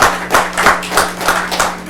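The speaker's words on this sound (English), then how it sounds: "I'd like to ask everybody to please kind of hold back on the applause" Scattered clapping from an audience at a planning commission meeting, about half a dozen fairly loud claps in an uneven rhythm, with no talking.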